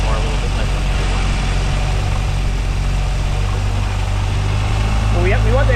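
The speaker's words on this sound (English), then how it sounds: "we want the idle to come down a little bit" Triumph TR3 engine idling during carburetor tuning, a steady low rumble throughout with people talking nearby.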